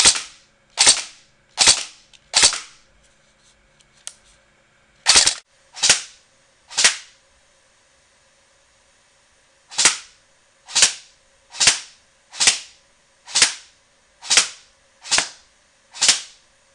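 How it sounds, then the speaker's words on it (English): An Ignite Black Ops M4 Viper airsoft gun fires single sharp snapping shots at about 25 feet: four evenly spaced, a pause, three more, then a longer steady run of about nine, each crisp and loud with silence between. "Now, let's take this gun out for the shooting test."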